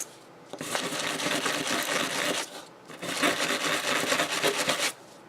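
An old hairbrush scrubs hard against fabric to fray it, two long bursts of loud, rapid scratchy rasping separated by a short pause, close up with no voices.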